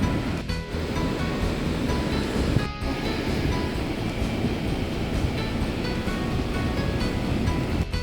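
Sea waves wash steadily onto the shore at a village beach, a loud, continuous rush of surf close by with no voices over it.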